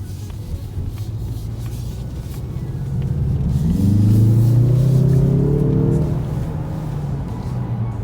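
A 2021 Mazda 3 Turbo driving on the road, with a steady engine rumble and road noise that swells as the engine revs up mid-drive, then settles back, heard alone from inside the car.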